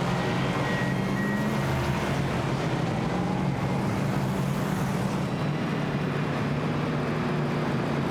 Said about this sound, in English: Several cars coming down pit lane.